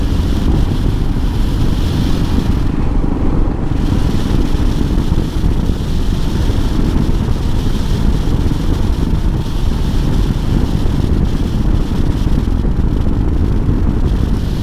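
A 2005 Kawasaki KLR 650 motorcycle is underway, its engine a steady, loud broadband roar heavily mixed with wind buffeting across the microphone for the whole stretch, with no speech.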